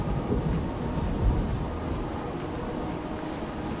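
Heavy rain pours steadily in a video game, with a low rumble of thunder that swells briefly. No one talks.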